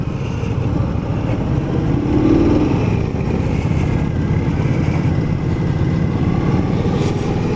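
Indian Scout motorcycle engine running steadily on a test ride, a continuous low rumble with a slight swell in revs partway through, close and fairly loud, with no talking.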